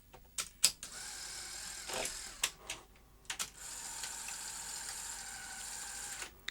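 A Sony SuperBeta SL-HF900 VCR's front loading mechanism operates with a series of close mechanical clicks and clunks, a few sharp knocks early on, then a steady whirring motor hum.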